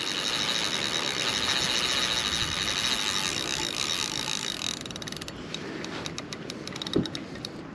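A fishing reel's drag clicks steadily as a hard-fighting carp strips line, the rapid ratcheting close up over steady outdoor noise, then easing into slower separate clicks.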